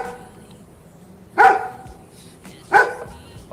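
Two sharp, loud barks from a single dog sound close by, about a second and a half apart, with near silence between them.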